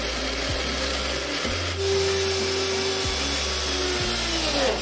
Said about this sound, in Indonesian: kemudian kita blender sampai halus.